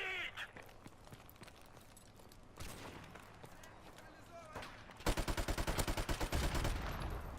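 STG-44 assault rifle firing in a shooter video game, heard as a fast rhythmic burst of close, loud automatic shots near the end, after scattered distant gunfire and game noise, with someone talking throughout.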